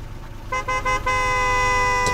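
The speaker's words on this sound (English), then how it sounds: "You really gotta honk at me." Car horn honking in a video game: a few short toots followed by a long, steady blare that carries on loud and close to the end.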